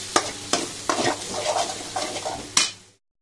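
Biryani masala is fried and stirred in a pan for a duck biryani: about five sharp scraping strokes ring over a constant sizzle, close and clear, before the sound cuts off, with no talking.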